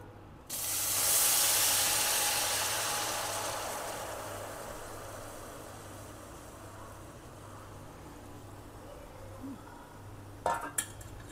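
Coconut jaggery syrup boils in a pan, giving a broad steady bubbling hiss that swells quickly, then slowly fades, with a few light metallic scrapes from stirring near the end.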